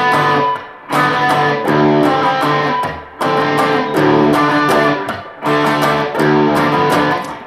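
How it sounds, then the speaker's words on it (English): The main opening riff played on guitar in DADGAD tuning, a loud, full, dense repeating phrase that cycles about every two and a half seconds with brief dips between passes, heard alone with no talking. "So if you haven't heard it, the main part sounds like this."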